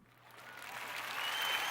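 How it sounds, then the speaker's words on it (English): An applause sound effect swells from quiet to full clapping and cheering crowd noise over under two seconds, dense and steady without voices. "We give you a big old round of applause."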